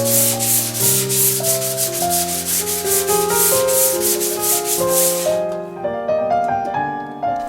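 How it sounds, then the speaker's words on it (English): Nylon glides on a router table fence are sanded by hand in quick, even back-and-forth strokes, a steady run of rasping rubs that stops near the end, with tonal music playing underneath throughout. "The glides are sanded so they are just above the surface."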